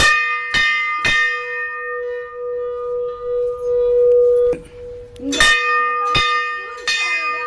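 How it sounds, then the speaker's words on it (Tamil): A temple bell in Theni is struck before going into a large temple, ringing out in several sharp clangs with long, bright, sustained tones that hang between strikes, close and loud. "மணி அடிச்சுட்டு தான் கோயிலுக்குள்ள போகணும்."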